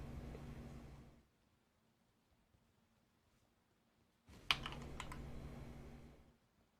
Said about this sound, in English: The keyboard was more behind it before, so it was harder to hear the keyboard a little bit.